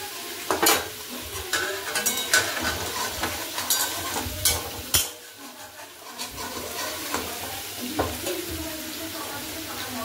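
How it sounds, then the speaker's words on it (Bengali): Potatoes frying in a wok, a steady oil sizzle broken by repeated scraping and clanking stirs of the utensil against the pan, close and fairly loud with no talk. "আলু মোটামুটি ভাজা হয়ে গেছে"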